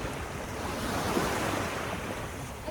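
Ocean waves washing onto Jericho Beach in Canada on a summer day, a steady soft surf wash with wind noise across the microphone, fairly faint and continuous with no voices.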